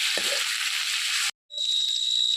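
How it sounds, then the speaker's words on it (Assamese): Marinated local chicken frying in hot oil, a steady bright sizzle that cuts out briefly and then resumes, with a faint clink near the start. "এতিয়া অলপ টাইম তেল উলিয়ালৈকে ভাজি থাকিম।"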